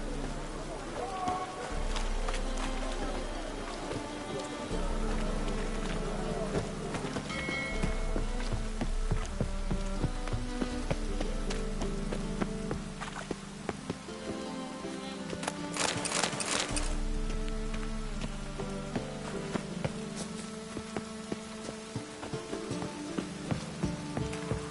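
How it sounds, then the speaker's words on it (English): Steady rain pattering on surfaces in the video game The Witcher 3: Wild Hunt, a continuous patter under game music, with horse hooves clip-clopping and a brief louder burst midway. "let it rain."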